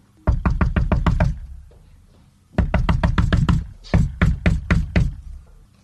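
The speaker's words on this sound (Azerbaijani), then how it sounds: "Əvvəlcə böyük quzunun evini tapıb qapını döyür." A door is knocked on in clear bursts of rapid, loud, close raps: a run of about eight, a pause, then two more runs of several knocks.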